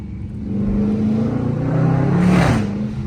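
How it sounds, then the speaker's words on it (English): A Dodge Charger R/T with a 5.7 V8 revs on a downshift, a loud, close engine roar that swells for about three seconds. "I gotta give y'all a little downshift in this motherfucker"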